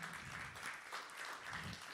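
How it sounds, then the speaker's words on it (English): Applause from the audience at an artist salon for a musician, a soft, steady patter of many hands heard from a distance and at low volume, continuing evenly for about two seconds. "Everybody, please give a round of applause again for"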